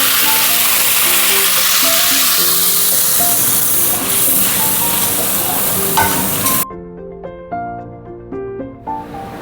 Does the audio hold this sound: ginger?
yes